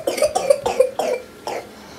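A person coughs in a fit of five or six harsh, close coughs in quick succession, followed after a short pause by one last cough.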